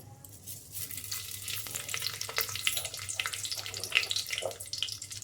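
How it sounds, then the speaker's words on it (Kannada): Mustard seeds and curry leaves sizzle and crackle in hot oil in a pan, a steady close frying hiss with scattered sharp pops, with no voices. "ಈಗ ಸ್ವಲ್ಪ ಸಾಸಿವೆ ಹಾಕ್ಕೊಳ್ಳೋಣ ಹಾಗೆ ಸ್ವಲ್ಪ ಕರಿಬೇವು"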